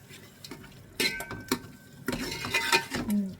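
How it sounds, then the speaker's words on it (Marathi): Spoon stirring curd into a prawn biryani mixture in a pot, a few quick scraping clinks and wet stirring sounds in short bursts, close and fairly quiet. "आता मी हे सगळं मिक्स करून घेते"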